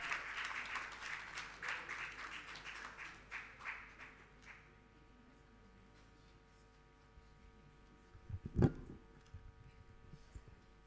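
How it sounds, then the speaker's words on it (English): A conference audience of Hansard editors claps for about four seconds to welcome a speaker, then the hall falls to a quiet hum broken by a single loud thump. "with a round of applause, let's welcome Mr. Ebenezer Arthur"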